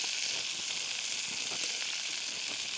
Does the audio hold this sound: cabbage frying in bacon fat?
yes